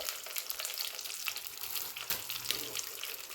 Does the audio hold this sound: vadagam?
yes